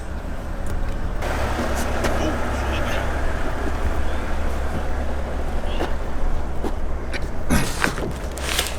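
A BMW M340i with a B58 engine and a Dinan valved exhaust idles steadily with a low, even rumble, while people talk nearby and occasional sharper noises sit on top.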